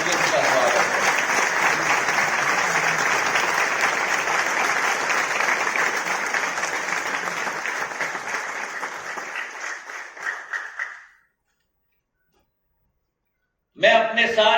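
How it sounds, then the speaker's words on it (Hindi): A large audience at a Paris 2024 Olympics commemorative postage stamp release ceremony gives Olympic champions a long, loud, steady round of applause that fades and stops after about eleven seconds, then a short burst of sound returns at the very end. "तालियों की गड़गड़ाहट से हम अपने चैंपियंस का स्वागत करें।"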